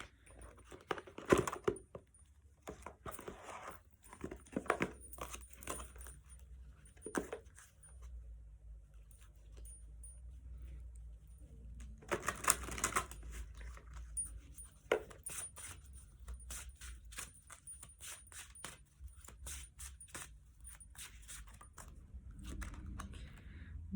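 Oracle cards are shuffled and pulled from the deck, soft scattered riffles and slaps close by with quiet gaps between, a few louder bursts of card handling, no talk.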